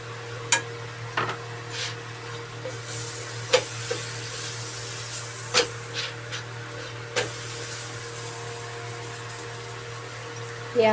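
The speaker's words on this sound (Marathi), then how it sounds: "हे आपली चपाती अशी भाजून घ्यायची." A chapati roasting on a hot pan for a potato veg frankie, giving a steady soft sizzle with a low hum underneath and occasional light taps and scrapes as it is pressed and turned.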